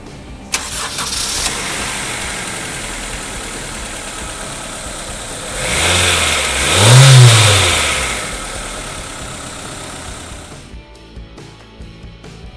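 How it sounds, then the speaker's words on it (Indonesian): A first-generation Honda CR-V RD1 with automatic transmission cranks and fires up, its engine swelling to a brief rev before settling into a steady idle, recorded close and loud with no talk. "foot on the brake, kita dengar mesinnya"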